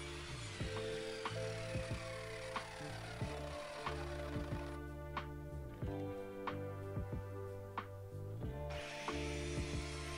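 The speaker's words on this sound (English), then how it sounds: "You can see here I'm just doing a standard miter cut." An Evolution R210CMS compound mitre saw making a standard miter cut, a steady close motor whine with a sustained cutting tone through the clip, rising in pitch around the middle and at the end.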